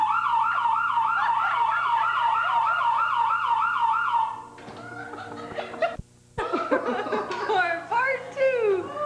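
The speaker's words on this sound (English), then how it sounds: "Is Fred setting the burglar alarm?" A burglar alarm siren going off, a loud rapidly warbling electronic wail repeating for several seconds before cutting out, followed by people laughing and chattering with short clattering noises.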